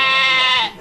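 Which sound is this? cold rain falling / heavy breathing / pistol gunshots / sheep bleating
sheep bleating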